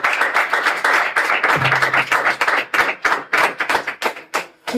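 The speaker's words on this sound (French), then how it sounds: "Vous avez apprécié, applaudissez encore." An audience at a talk on referendums applauds, a loud, close burst of many hand claps that starts dense and breaks into separate uneven claps as it dies down.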